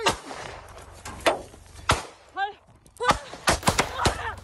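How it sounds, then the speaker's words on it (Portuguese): Gunshots fired by a merchant in a rural land dispute crack out as several sharp, scattered bangs, with voices shouting in between. "A discussão continua e o comerciante começa a atirar."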